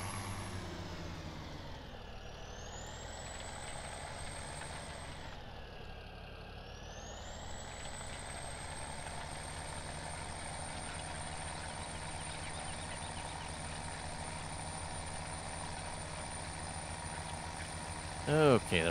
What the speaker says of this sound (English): I'll say I kind of like this tractor, though. International 4186.